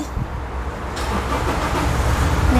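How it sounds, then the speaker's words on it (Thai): A Toyota Fortuner 2.4 V from 2018, started with the push-start button, settles into a steady, loud, close idle hum. The engine sound is continuous and alone, with no talking. "เหยียบเบรกกดพุชสตาร์ทเลย"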